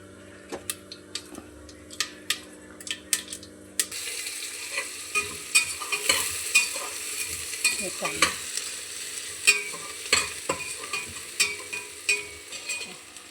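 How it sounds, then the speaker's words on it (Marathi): A spoonful of mustard seeds dropped into hot oil for dal khichdi crackles and sizzles, with sharp pops going off in quick, irregular bursts close by. A steadier, quieter background hum comes before it. "तर आता आपण स्टार्टिंगला राई टाकून घेऊ ओके एक चम्मच राई"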